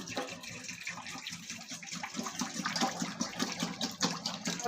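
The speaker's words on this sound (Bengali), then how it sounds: "ওয়াশ করে ও জায়গায় রাখি, জলটা ঢেলে দিই।" Water is poured out after washing a rabbit-keeping container, a steady faint splashing gush running continuously.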